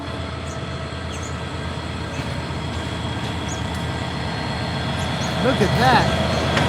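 A train rolls past nearby with a steady, loud rumble of wheels on rails and faint squeals toward the end, while a person speaks briefly over it.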